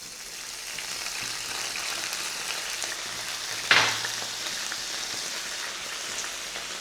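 Coconut pieces frying in oil for beef curry give a steady, close crackling sizzle throughout, broken by one sharp clank of a spoon against the pan partway through.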